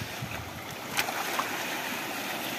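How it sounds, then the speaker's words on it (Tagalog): Waves washing on the open water of Laguna de Bay near the lighthouse at San Benito, Victoria, Laguna: a steady, fairly close hiss and slosh with a couple of brief splashes, and no talking. "Lampas na dito ang alon mga ka-anglers."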